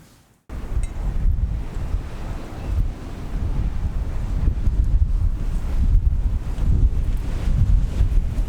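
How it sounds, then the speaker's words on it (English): Strong wind gusts on the Texas coast buffet the microphone in a loud, continuous roar, with surf rumbling underneath; a brief quiet moment opens the stretch before the gusting takes over. "wind is starting to pick up"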